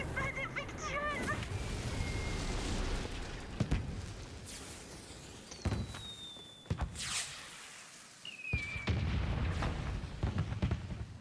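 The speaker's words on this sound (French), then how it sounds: "L'explosion la plus inspirante de l'histoire." Explosions and gunfire in the video game Borderlands 4: a series of sharp, loud blasts spread across the stretch, with honking, whistling effects and busy game noise between them.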